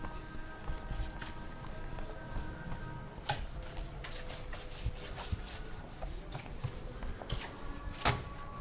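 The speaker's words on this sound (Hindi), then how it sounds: "ये इसको मैं रब कर रहा हूँ" Steady close rubbing on a board as writing is wiped away, a continuous scraping texture with a few sharper knocks and taps, no voices.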